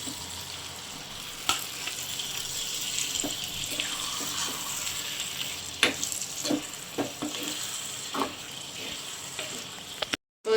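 Squid dropped into a pan of sautéed tomato and onion for Jaffna-style squid stir-fry, a soft continuous sizzle with scattered clinks and stirring knocks, close by and fairly quiet, no talking.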